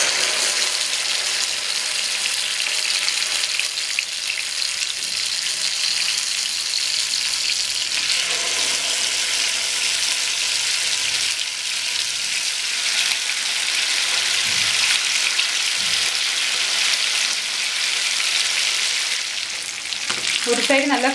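Ayala mackerel fish frying in hot oil, a loud continuous sizzle and crackle throughout with occasional stirring clinks near the end.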